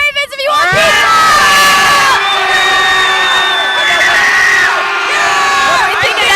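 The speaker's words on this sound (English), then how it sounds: "whoever can cheer the loudest," A loud crowd of fans at a Ravens game-day pregame show cheers and whoops in a pizza giveaway contest, sustained screaming and shouting close and alone for several seconds.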